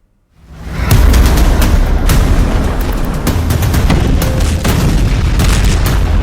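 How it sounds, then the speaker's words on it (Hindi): Heavy bombardment rolls in during war in West Asia: after a brief silence a loud, sustained roar of explosions swells up, punctuated by repeated sharp blasts and cracks. It sounds dense and continuous, without speech. "बम बरस रहे हैं।"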